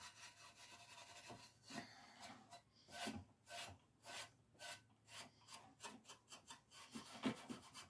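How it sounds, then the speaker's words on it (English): Very fine steel wool scrubbed over a lamp during a makeover, a series of quiet, uneven scratchy rubbing strokes coming close together, with no talking. "I am going to take a very fine steel wool. And I'm going to go over this just to get all the other loose off."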